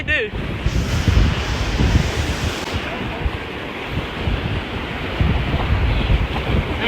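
Strong wind buffets the microphone at a beach during summertime shark fishing, a constant roaring rush over the surf with faint voices at the start.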